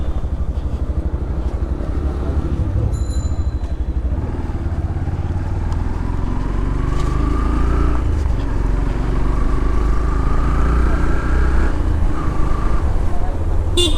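A Yamaha FZS V4 motorcycle on a test ride hums with a steady engine drone, its pitch rising through several gear changes over continuous road and wind noise.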